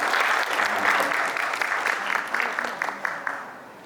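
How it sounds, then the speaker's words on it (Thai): Enthusiastic audience clapping welcoming a young girl to a music school recital, steady and full at first, then thinning into scattered claps as it fades. "ขอเสียงประมือดังนะครับ"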